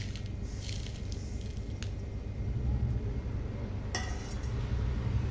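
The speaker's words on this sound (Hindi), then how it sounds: "तो अब मैं इसमें सारे मसाले डाल देती हूँ।" Spices tipped into a glass jar of raw mango pickle, a soft continuous rustling with a couple of faint clinks against the glass, no voice.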